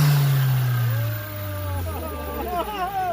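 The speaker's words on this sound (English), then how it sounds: "PRL intake is on. We're gonna go ahead and show you guys how it sounds" A 2020 Honda Civic Si with a PRL air intake revs up near the microphone, engine note rising and falling over a few seconds, and people talk under the sound.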